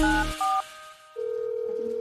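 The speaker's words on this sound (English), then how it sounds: "I will be calling my sister Alice to see if she can answer these questions for me" A phone is dialed to call someone, with a short burst of touch-tone beeps, a brief pause, then a steady ringback tone, close and clear with no talk.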